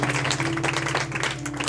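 A church congregation applauding to acclaim God, a dense, steady wash of clapping over a low, sustained hum.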